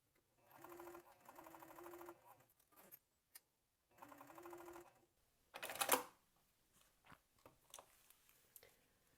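Sewing machine stitching a zipper onto a crossbody bag at 4 millimeter stitch length, two steady runs of rapid mechanical whirring with pauses, followed by a sharp clatter and scattered small clicks and handling noises.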